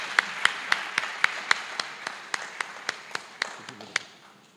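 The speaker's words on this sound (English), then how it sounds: "Let's give a round of applause to Salma Sheikh for her courage." Scattered audience clapping at a 2021 graduation ceremony, a run of sharp individual claps at an uneven pace that thins out and fades toward the end, with no voices over it.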